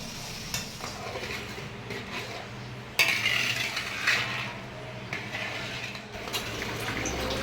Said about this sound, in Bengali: খিচুড়ির মশলা কষাচ্ছে